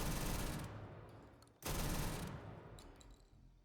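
An AK000 mod weapon fires in Starfield, loud continuous rapid bursts of automatic gunfire that break off for an instant, then resume and trail away with scattered shots.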